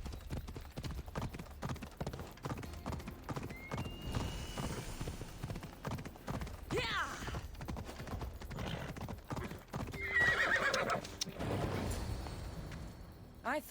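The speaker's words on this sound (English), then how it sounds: "I thought Adonis could make good use of this horse" A horse's hooves clop in a steady, close rhythm throughout, and a brief whinny rises near the end over low background voices.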